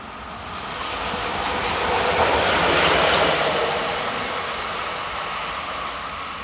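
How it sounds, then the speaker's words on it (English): Locomotive 11262 running north as a light engine, a continuous rushing rail roar that swells as it passes close and then slowly fades, with no voices. "(11262) scuttles north on a light engine move."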